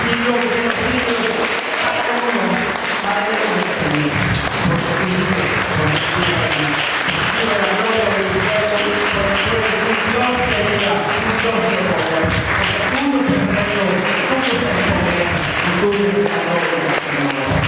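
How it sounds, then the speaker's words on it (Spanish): A standing church congregation gives a long, sustained round of loud applause, many hands clapping together steadily, with voices and cheering mixed into the crowd throughout. "le demos un fuerte aplauso al que vive y reina por los siglos de los siglos"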